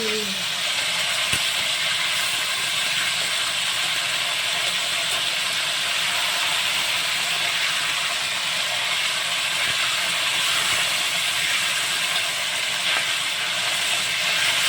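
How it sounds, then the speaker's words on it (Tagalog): A steady, loud hiss and sizzle of pork frying in oil continues without a break, with a brief low thump near the start. "Nagpiprito ako ng baboy."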